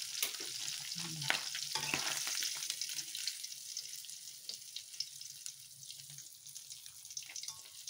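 Sea fish sizzles and crackles as it fries in hot oil, with scattered pops and a few clinks of utensils, fairly quiet and close.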